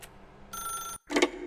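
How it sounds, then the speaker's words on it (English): A telephone rings in The Stanley Parable, a short bright electronic ring that cuts off abruptly, followed after a brief silence by a second louder burst. "Now pick up the phone."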